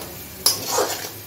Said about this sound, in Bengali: এখন আমি টমেটোটা মশলার সাথে মিশিয়ে নিই।